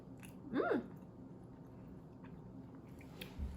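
Biting into a white fudge coated chocolate Timbit doughnut hole, one soft close bite followed by quiet, faint chewing in a still room.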